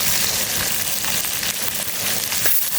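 Steady, dense sizzling of food frying in a hot electric frying pan, a continuous crackling hiss with small pops, close and fairly loud, no talking.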